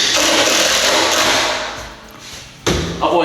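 Timber stair parts being screwed together produce a sustained, loud mechanical whirring that fades, then a sharp thud followed by a renewed burst of noise.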